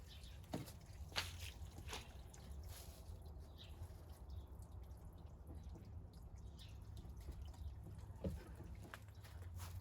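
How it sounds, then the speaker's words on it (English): Quiet trickling and dripping water as a Jacuzzi Perfecta toilet bowl rinses after a flush, faint and steady, with a few brief clinks, heard close up in a bathroom. "I want to see the bowl rinse though."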